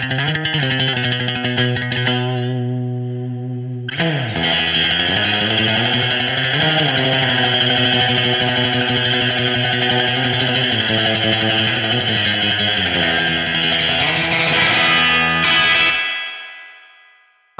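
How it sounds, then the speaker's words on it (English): Electric guitar from a Strat bridge pickup plays through a Boss RV-500 spring reverb, giving loud, sustained, distorted chords that bend and shift, with a ringing tail that fades out at the end. "it sounds like, you know, a tap dripping or something when you kind of hit palm mute"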